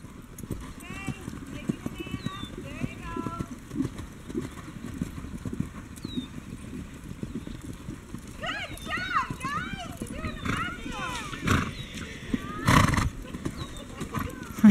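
Several horses canter together in a riding drill practice, hooves clip-clopping steadily throughout with occasional neighs, while people talk over the hoofbeats.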